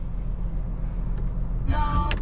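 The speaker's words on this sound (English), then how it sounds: "I'm gonna shut the truck off for this one." A truck engine idles with a steady low rumble close by, and a person begins talking briefly near the end.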